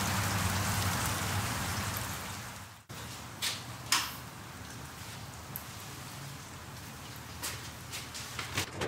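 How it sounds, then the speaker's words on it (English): Cold, gloomy rain falling steadily outdoors, a dense continuous patter with a few louder drips and knocks, with a brief dropout partway through. "It's just before it gets warm, and it's nothing but rain, and rain, and rain, and rain."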